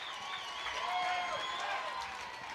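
A college softball crowd at a Florida vs Mississippi State game cheers to encourage the batter. It is a diffuse, distant, fairly faint roar of voices and whistles, with commentary talking over it.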